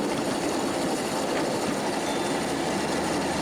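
Model railroad steam train running on a large layout, a steady, even rolling rumble with faint wheel clatter, continuous and close with no voices.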